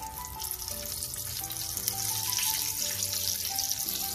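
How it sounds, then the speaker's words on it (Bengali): Cut halves of boiled egg go into hot oil, giving a steady, fairly loud frying hiss with watery crackle that runs on without any talk. "এখন আমি দিয়ে দিব ডিমগুলো এই তেলের মধ্যে"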